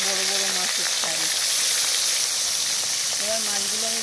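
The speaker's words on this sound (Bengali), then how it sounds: "তেল গরম হয়ে গেছে, এবার মাছগুলো আমি ভেজে নেব।" Large pieces of boal fish fry in hot oil in a pan, giving off a loud, continuous close-up sizzle, while a person talks over it at times.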